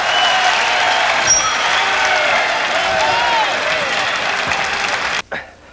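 A crowd roars and applauds in the arena at the Winter Circus in Paris after round four of an IBF bantamweight title boxing fight, a loud sustained wash of cheering that cuts off abruptly near the end.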